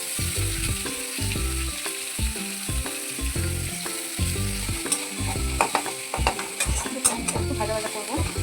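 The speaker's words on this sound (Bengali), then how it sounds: "একসাথে ভালো করে ভাজা হবে।" Frying in oil in a pan with chopped ingredients, a continuous sizzle mixed with rhythmic clicking and scraping of a utensil against the pan, moderately loud and close, no voices.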